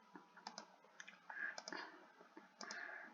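Fast, light keyboard typing during a Sl4sh.io browser game, played on an awkward, uncomfortable keyboard: bursts of soft clicks and key taps in irregular clusters, fairly quiet and close, with no voices over them.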